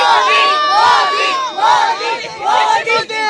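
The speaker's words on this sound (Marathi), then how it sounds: "आपण पाहतोय सगळेजण जल्लोष करतायत." A dense crowd cheers and shouts in loud, surging waves at Narendra Modi's road show in Mumbai, voices rising and falling close by.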